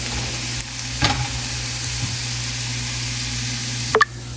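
Eggs cooking with onions in a frying pan on low heat, a continuous close sizzle with a few spatula scrapes and knocks against the pan.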